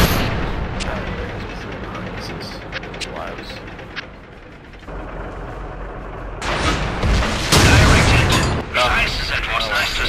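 Tank guns fire during a World of Tanks battle, with heavy cracking booms and rumbling mechanical noise, and the loudest blasts cluster near the end under occasional voices.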